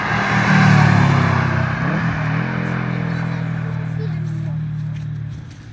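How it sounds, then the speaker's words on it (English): A Mazda race car on the Summit Point Raceway track, its engine note loud at first, then dropping and fading to a steadier drone as it moves away. "this Mazda sounds good"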